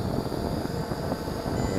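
An MJX Bugs 12 EIS folding 4K drone hovers and descends close by, its propellers giving a steady, loud, unbroken buzzing whine with no talk over it.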